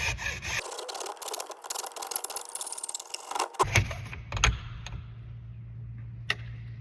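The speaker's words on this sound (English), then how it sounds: "I'm gonna use a hacksaw, use a really fine grit blade on there, and you're just gonna cut slowly and deliberately through this pole" A fine-grit hacksaw blade cuts slowly through a fishing pole, with steady rasping strokes for about three seconds, then a few knocks and scrapes before it fades to a quiet hum.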